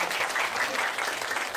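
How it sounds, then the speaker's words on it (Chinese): An audience at a science magic show breaks into warm, sustained applause to welcome a teacher, a thick, even clapping that fills the room from start to finish. "我们就以这最热烈的掌声来欢迎我们房汉斌老师"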